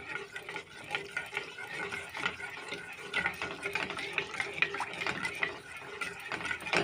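A ladle stirs a falooda milk mixture in a pot over low to medium heat, making soft repeated scraping and sloshing strokes, fairly quiet and close, in an uneven continuous rhythm.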